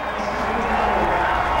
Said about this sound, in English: You hear cheering for Kyle Busch